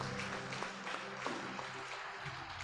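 A church congregation applauds in praise of Jesus, giving steady, dense clapping that fills the room for the whole moment, fairly distant and even, with no voice over it.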